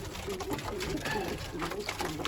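Tumbler pigeons cooing softly and continuously, low rounded calls repeating close by with faint rustling, no speech.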